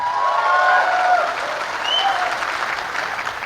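An audience at a political speech about Tripura breaks into sustained applause, a dense, steady wash of many hands clapping that stays loud for the whole stretch with faint voices mixed in.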